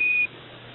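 The Apollo 11 lunar module's 1201 program alarm sounds as a single short, steady electronic beep, about a quarter second long, over thin radio-link hiss.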